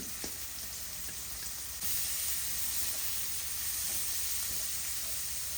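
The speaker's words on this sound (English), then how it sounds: "I've added a little oil to the same pan. I'm adding 1 medium onion." One medium onion sautés in a little oil in a pan that was already used, a steady broad hiss of frying that gets louder partway through and continues evenly with no talking.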